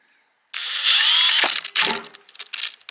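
A power drill whines loudly into material for about a second, then stutters in short bursts as the bit catches and releases, close and dominant.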